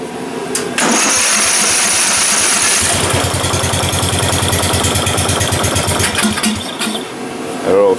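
Murray riding tractor engine starts and runs steadily, a loud close idle with rhythmic mechanical chugging that holds for several seconds before a brief surge at the end.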